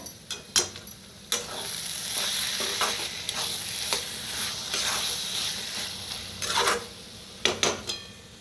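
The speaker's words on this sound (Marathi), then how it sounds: "एकदा मिक्स करूया" Baingan bharit, a mashed roasted aubergine dish, is stirred in a pan, with soft sizzling and repeated scraping strokes of a spoon against the pan, the louder scrapes coming in irregular bursts.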